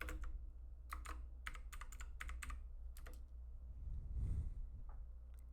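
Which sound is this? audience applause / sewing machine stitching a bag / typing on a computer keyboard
typing on a computer keyboard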